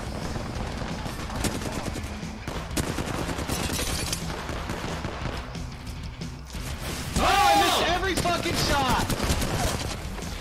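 Gunfire fills an Apex Legends match: rapid bursts of shots and mechanical clatter run through the clip, and players talk over them.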